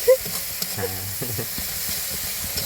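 Chilli paste hits a hot pan with a faint steady sizzle over the whole stretch, a brief clink near the start and a few soft stirring scrapes in a quiet kitchen.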